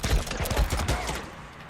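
Rapid gunfire from the focused-shot ability in the video game Days Gone: a quick burst of heavy thumping shots up front that tails off into a fading echo.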